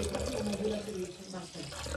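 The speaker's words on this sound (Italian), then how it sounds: "adesso aggiungo altra acqua." Water running from a tap into a pot of pumpkin pasta with celery on a home kitchen stove, a steady continuous pour with a rushing, splashing texture that fills the full two seconds.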